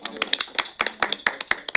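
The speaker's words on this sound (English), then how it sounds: "you can clap for that if you want" A small group at a county board of commissioners meeting claps briefly, the sharp hand slaps overlapping in a quick, uneven patter that lasts under two seconds.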